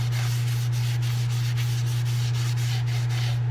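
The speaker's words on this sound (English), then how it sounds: "We're going to put some sanding sealer in here." A steady low electrical hum runs throughout, with a faint, rhythmic rubbing or brushing of sanding sealer onto a turned oak burl, repeating every fraction of a second.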